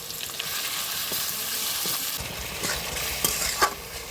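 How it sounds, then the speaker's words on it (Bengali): Garlic paste, chopped tomato and ginger paste fry in oil in a pan, a steady close sizzle punctuated by stirring scrapes and a couple of clinks from a utensil. "মশলাটা সুন্দরভাবে কষিয়ে নিয়েছি"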